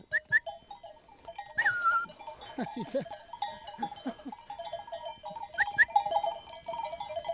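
A flock of ewes being gathered by a herding dog on a farm path, with repeated bleats near and far, a clanking bell and someone talking in French.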